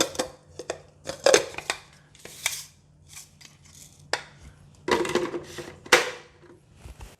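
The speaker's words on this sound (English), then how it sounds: "I'm going to first grind the rice." Roasted rice for Thai khao khua being ground a few spoonfuls at a time in a glass jar, giving short crisp crunching and clattering bursts in irregular spurts, loudest near the start and again toward the end.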